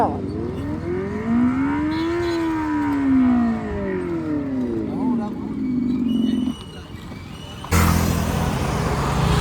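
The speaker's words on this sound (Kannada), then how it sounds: "ಹೆಂಗೈತೆ ಕವಾಸಕಿ ಸೌಂಡ್." A Revolt electric bike plays a synthetic Kawasaki superbike exhaust sound through its speaker, rising and falling like revving for several seconds, then a short steady tone and a noisy burst at the end, close and loud.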